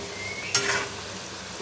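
Moong dal nuggets fry in hot oil with a steady sizzle, while a sharp scrape of a utensil marks one stir near the start.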